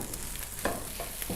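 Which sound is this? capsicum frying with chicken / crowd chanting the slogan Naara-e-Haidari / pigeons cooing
capsicum frying with chicken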